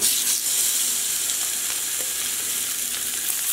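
Chicken pieces laid skin side down in hot oil give a steady, loud, close hiss of frying that holds even and unbroken throughout, with no voices.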